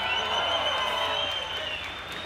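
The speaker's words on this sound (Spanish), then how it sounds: "gran aplauso, por favor" Sustained audience applause at the Riviera Maya Jazz Festival, a dense, steady wash of many hands clapping with faint crowd noise beneath, loud and continuous throughout.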